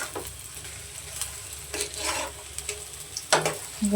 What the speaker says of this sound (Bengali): নাস্তার জন্য পেঁয়াজও বানাচ্ছি সুন্দর নাস্তা পেঁয়াজি দিয়ে